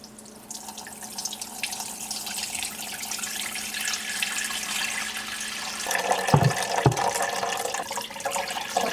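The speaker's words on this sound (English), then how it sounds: "she is just going to pour the stock as it is in through the tea towel" Chicken stock poured through a double-layered tea towel into a sink strainer, a steady liquid splash building in the last few seconds with a couple of louder gushes over a low running hum.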